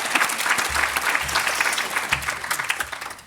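An audience at the It Starts With Action Summit 2022 applauds, a dense steady wash of clapping from many hands that carries through the whole stretch at an even level.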